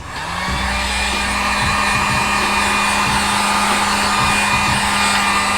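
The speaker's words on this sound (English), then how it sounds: "I'm gonna hit it with the heat gun on low just to heat up some of the adhesive" A heat gun set on low blows steadily while warming the adhesive of a broken Maserati car emblem, a constant whooshing fan hum with a motor whine that starts up and holds.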